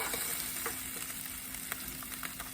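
A flat Cubano sandwich crisps on a hot griddle, giving off a steady, dense sizzle with scattered sharp crackles and pops throughout.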